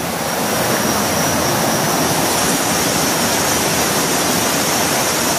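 A waterfall beside a river at night roars steadily and loudly, a dense unbroken rush of falling water filling the whole clip with no voices.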